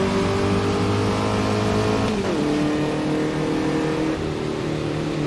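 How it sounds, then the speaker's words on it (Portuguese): A race car engine in rFactor 2 revs steadily at high pitch, then drops sharply as a gear shift lands, settling into a lower drone that keeps pulling, loud and close throughout. "Trocando de marcha a 6 mil rotações."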